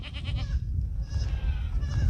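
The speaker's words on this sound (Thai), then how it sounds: "มีแพะตอนนี้หกสิบโตครับ" Goats on a farm holding about sixty animals bleat close by, wavering cries heard over a low rumbling background, with no talk.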